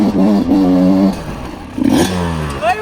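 A motocross bike carrying two riders labours up a steep slope, its engine revving hard in surging bursts with a brief dip between, loud and close, with rattling clatter and a rising whine at the end.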